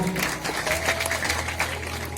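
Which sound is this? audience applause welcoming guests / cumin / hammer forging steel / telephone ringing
audience applause welcoming guests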